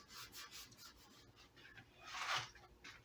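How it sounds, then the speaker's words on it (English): Rubbing shellac finish into the pores of a redwood instrument top makes soft, quiet, rhythmic rubbing strokes close by, with one brief, louder swipe near the end. "I'm just rubbing that into the pores in the instrument"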